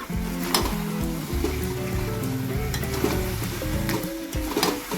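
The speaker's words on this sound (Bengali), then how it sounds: "এবারে আমি এটাকে ভালো করে নেড়ে চেড়ে নেব" Chicken pieces frying in a pan while being stirred, a loud continuous sizzle broken by repeated scraping strokes of a spoon against the pan.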